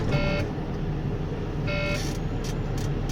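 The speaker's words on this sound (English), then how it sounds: "My warning light and buzzer is on because my pressure is below 60 psi." A truck's air brake low-pressure warning buzzer sounds in two short electronic beeps a little over a second apart, heard over a steady idling engine rumble.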